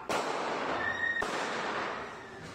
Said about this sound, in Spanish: se escuchan más disparos desde el exterior y comienzan los gritos